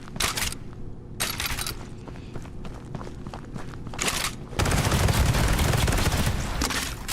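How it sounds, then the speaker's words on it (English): Shotgun fire in a video game: loud, close blasts in quick succession amid dense action noise and footsteps, building to a sustained roar of gunfire near the end. "Unfortunately, the shotgun sucks in this game."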